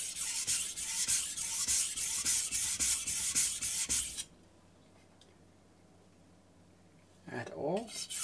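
Carbon steel knife rubbed over a Suisin whetstone in quick rhythmic strokes, a gritty scraping for several seconds before falling quiet, then a short burst of speech.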